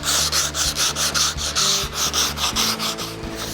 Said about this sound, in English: He's already blocked it with 36 grit, which is a sandpaper.